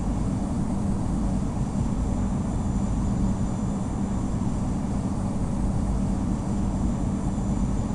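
Engines of an Air Asia Airbus A320 at Sydney International Airport during takeoff, a steady loud broadband roar with low rumble that holds evenly throughout, with no voices.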